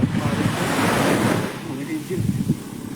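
Sea waves rolling onto the shore on a coast where net fishing is done, a loud close surge and wash with heavy wind buffeting the microphone, easing slightly midway before another wave breaks.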